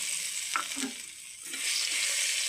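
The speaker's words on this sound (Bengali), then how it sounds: "জিরাটা ফুটে যাক, দিয়ে দেবো রসুন" Crushed garlic sizzles in hot oil with cumin seeds and bay leaf, a steady bright frying hiss punctuated by a couple of soft stirring scrapes.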